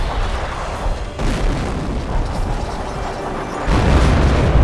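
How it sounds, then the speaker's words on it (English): Rocket strike explosions in the World War II strategy game Company of Heroes: Tales of Valor, with loud, rumbling booms rolling continuously and a heavier blast near the end, no talking. "Rocket is en route to target."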